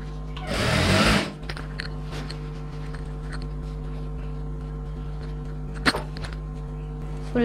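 A sewing machine stitches pattu pavadai silk fabric pieces in a close, steady run of whirring lasting about a second, then the motor hum continues quietly with a small click near the end.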